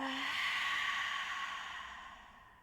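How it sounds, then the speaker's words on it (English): Slow breathing during a calming flow practice, one long audible exhale like a sigh that gradually trails off, close up with no talk. "You breathe in. Breathe out."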